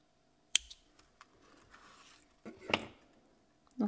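Scissors snip macramé cord flush against a micro macramé bracelet, giving a few sharp, close clicks spread across a quiet background.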